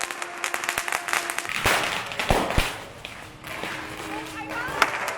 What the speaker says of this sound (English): I'm not going to be able to do a lot of commentary due to the noise of the fireworks and the firecrackers